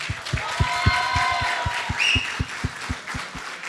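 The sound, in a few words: audience applause for Rajesh Hamal on stage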